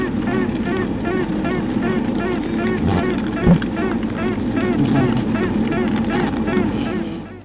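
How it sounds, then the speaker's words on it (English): Mature honeybee queens still confined in their cells give a quacking, piping call. Rapid, evenly spaced, nasal harmonic pulses repeat without pause, forming a dense, steady chorus at close range. "Mature queens still confined within their cell answer the tooting with a distinct piping sound,"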